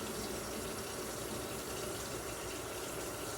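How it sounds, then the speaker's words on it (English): Tap water runs in a loud, steady, continuous stream into two cans to rinse them before draining, close and alone, with no talk. "that's what you see me doing here is adding water for rinsing into both those and then draining them again"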